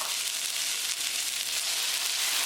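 Onion, ginger and garlic paste hits hot olive oil in a karahi, a steady close sizzle and crackle of frying with no talking over it.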